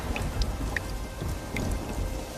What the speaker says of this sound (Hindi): ये बारिश का सिलसिला यूं ही कुछ दिन तक जारी रहता है।